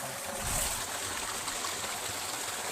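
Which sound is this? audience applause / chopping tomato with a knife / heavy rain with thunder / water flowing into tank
water flowing into tank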